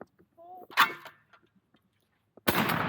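A shotgun fired at thrown targets gives a sharp, loud blast, followed after a quiet gap by a second, louder report that continues to the end. Brief voices are heard before the first shot.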